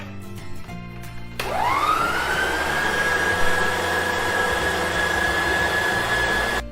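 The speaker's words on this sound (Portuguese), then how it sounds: "aqui a gente liga a batedeira e eu vou começar a colocar essas gemas" An electric stand or hand mixer starts up and runs steadily, beating egg yolks into chocolate cake batter with a continuous close motor whine that holds a rising then level pitch throughout, no talking.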